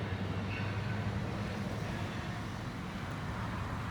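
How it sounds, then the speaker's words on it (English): A loaded CSX rock train rolls past, a steady heavy low rumble of wagons and wheels that holds at an even loudness throughout, no voices. "the first loaded rock train of the week"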